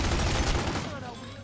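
Gunfire from The Godfather video game on the Wii, a dense loud burst of rapid shots filling the moment before it quickly fades.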